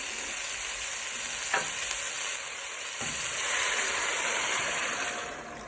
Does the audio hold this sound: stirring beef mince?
yes